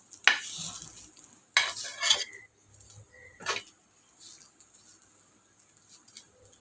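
A spoon scrapes and stirs food in a pan in several separate strokes with pauses between them, quiet and close, with a soft sizzle underneath.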